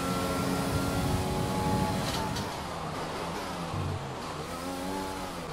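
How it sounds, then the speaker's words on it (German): Formula 1 race car in F1 2020 at the Canadian circuit, its engine roaring steadily under heavy throttle with rising and shifting pitch through gear changes, loud and close throughout. "jetzt geben wir schon mal ein bisschen Gas, also mehr volle Power Benzinmischung und volle Power"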